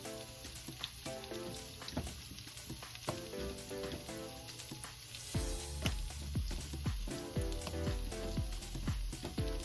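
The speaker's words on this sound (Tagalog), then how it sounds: "magigisa na ako ng bawang" Garlic and onion sautéing in a pan for Filipino menudo, a close, steady sizzle with repeated scraping and stirring strokes that get heavier and more rhythmic partway through.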